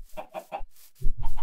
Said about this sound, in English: More chickens over here.